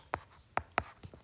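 Chalk or marker strokes on a board during a Hindi literature lecture: four short, distinct scratching taps in an uneven rhythm, close and moderately loud, with no talk over them.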